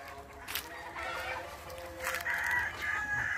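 A rooster crows on a large poultry farm in Motipur, Muzaffarpur, Bihar, its call rising clearly above a steady farmyard din of other fowl clucking in the background.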